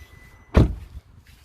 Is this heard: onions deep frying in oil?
no